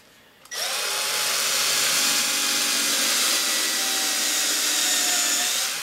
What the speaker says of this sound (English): So I just drill those so that that recess part just touches the surface